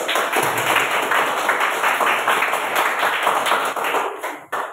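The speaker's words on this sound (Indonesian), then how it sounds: "Tepuk tangan." A classroom of students gives a round of applause, dense steady clapping that fills nearly five seconds before tapering off abruptly.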